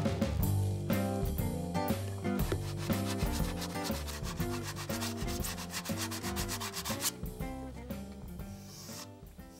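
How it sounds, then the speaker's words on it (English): Sandpaper wrapped around dowels rubs over wood filler on the broken edge of an armoire, a close, loud rhythmic rasp of quick back-and-forth strokes keeping steady throughout, with no voices. "Sandpaper wrapped around dowels works really well for this."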